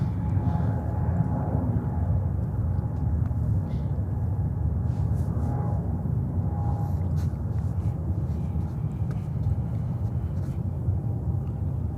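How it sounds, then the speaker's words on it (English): A Korean Cargo Boeing 777 freighter taking off at JFK airport, heard as a steady, loud, low jet-engine rumble with a faint whine that holds for the whole stretch without talk. "next takeoff is Korean Cargo with the 777 freighter to"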